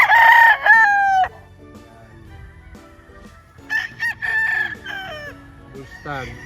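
Bull stag gamecocks crow loudly and close by, one long ringing crow followed after a pause by a second run of crowing calls, with quieter farmyard background in between.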